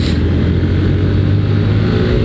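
A motorcycle on a touring ride accelerates with a loud, close engine drone that holds steady for a couple of seconds.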